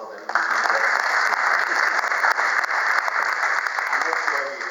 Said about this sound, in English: Round of applause for the losing boxer.